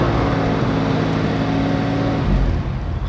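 A 1950s Mercedes 220 Ponton six-cylinder engine runs steadily at idle, a loud, close, low rumble with a smooth throb that settles slightly near the end, no voices.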